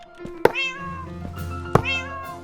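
Two short cat meows from Minecraft sound in succession against steady game background tones, each call preceded by a sharp click, clear and close.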